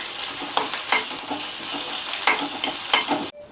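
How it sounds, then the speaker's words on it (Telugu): A tempering of mustard seeds, urad dal and curry leaves fries in oil for coconut chutney, sizzling steadily while being stirred, with scraping stir strokes and a few crackles before the sound cuts off at the end. "ఫైనల్గా కరివేపాకు కూడా వేసుకొని ఫ్రై చేసుకోవాలి"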